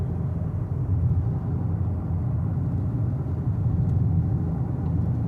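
A car engine rumbles low and steady from inside the vehicle while it moves slowly through traffic, a constant muffled drone with no talking.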